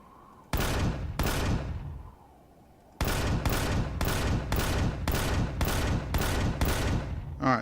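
Gunfire in the space survival game Empyrion: Galactic Survival during an aerial assault on a fortress: loud, close bursts of shots, two at first, then after a short lull a steady run of about eight evenly spaced blasts, with no talk.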